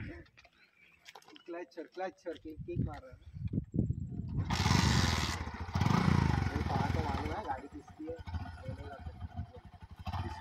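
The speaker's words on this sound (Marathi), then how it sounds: "आणि हा इथे बाईक शिकतोय." A motorbike engine revs up nearby and holds a steady drone for several seconds, ridden by a learner at a seaside resort in Shrivardhan, Raigad, with people talking over it before and after.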